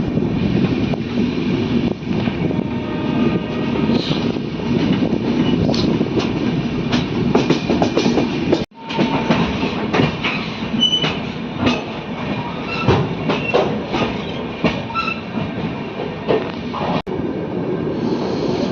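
The Lucknow Mail train rolls along the rails near Lucknow's Alamnagar with a continuous rumble, rhythmic clickety-clack of wheels over joints and buffeting wind noise, broken by one brief dropout.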